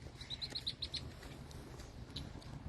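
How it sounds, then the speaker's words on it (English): A territorial bird calls while dive-attacking a person outdoors, a short run of about six sharp, evenly spaced chirps followed by one more later, moderately near over steady outdoor background noise. "bird totally attacking him"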